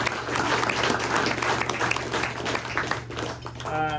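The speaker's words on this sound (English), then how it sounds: "let's get a round of applause for Harry's" Sustained applause from a seated audience at a press luncheon held in an indoor room, steady dense clapping throughout with a faint tonal hum and a brief murmur toward the end.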